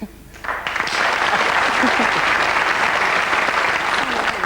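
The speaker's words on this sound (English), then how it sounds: "you've got to get another round of applause for that now" A studio audience applauds on the 1989 UK TV game show The Pyramid Game, swelling quickly after a brief quieter moment into loud, sustained clapping that holds steady to the end.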